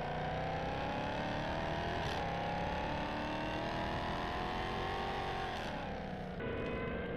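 A vehicle engine in Farming Simulator 19 drones loud and steady, holding a sustained revving tone with slight pitch shifts and a brief dip near the end, with no voices over it.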